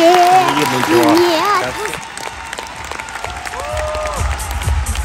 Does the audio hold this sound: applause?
yes